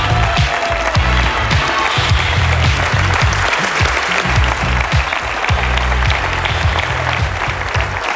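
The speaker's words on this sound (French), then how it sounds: "On peut les applaudir." Studio audience on a French TV variety show applauding steadily and loudly, a dense sustained clatter of many hands with some low musical or crowd rumble underneath.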